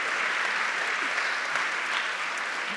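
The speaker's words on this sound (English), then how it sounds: "this deserves the applause" An audience at a book talk applauds, a steady dense wash of clapping from many hands lasting the whole moment.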